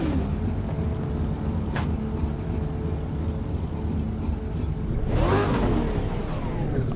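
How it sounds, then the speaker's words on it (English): Big V8 cars on the Laguna Seca track: a steady low engine rumble runs throughout, with a sharper rush around the five-second mark as one car sweeps past nearby. "we are driving big V8s, as you can probably tell"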